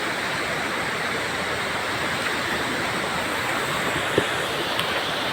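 Tumabo Falls pours in a steady, dense roar of rushing water that stays constant and fairly loud throughout, with no voices.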